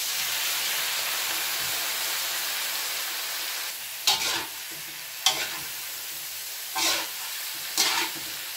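Pre-cooked chicken gizzards sauté with garlic and onion in a pan, hissing in a continuous loud sizzle while four distinct stirring scrapes cut through at intervals, and nobody speaks.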